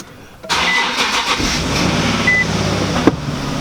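A crashed Nissan 370Z's engine cranks briefly, catches and settles into a loud, steady idle close by.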